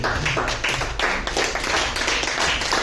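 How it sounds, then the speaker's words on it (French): Dense, steady clapping from a crowd at an event opening, continuous applause filling the space without pauses. "Je vais vous demander sous vos applaudissements d'accueillir Madame Martine Leroux, s'il vous plaît."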